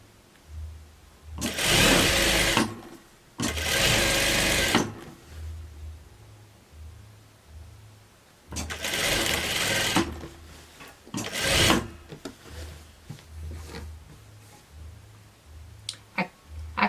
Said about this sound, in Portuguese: Aí costura até a barra.